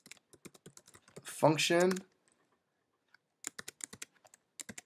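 Keys clicking on a computer keyboard as code is typed, a run of light taps, a pause, then more taps, with a brief spoken word between them.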